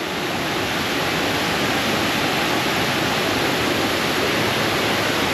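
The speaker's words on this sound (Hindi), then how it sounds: "पानी की आवाज़ को सुनो दोस्तों, ये नेचुरल साउंड के सामने ना कोई भी म्यूज़िक फीका पड़ जाएगा" Rushing water in the Flume Gorge, New Hampshire, a loud, unbroken roar of cascading stream water filling the whole scene steadily with no voices.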